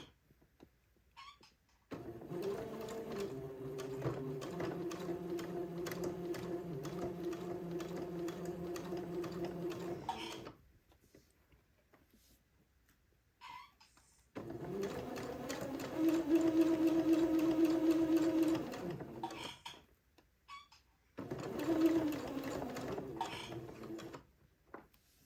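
A sewing machine stitches a smocking row for a Chery Williams Bishop jumpsuit in close, steady humming runs of rapid needle clatter, stopping and restarting several times with quiet pauses between bursts.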